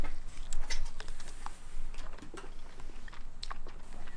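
Close chewing of smoked baby back ribs from a drum smoker, soft repeated wet bites and crunchy clicks in an irregular rhythm, with no talk.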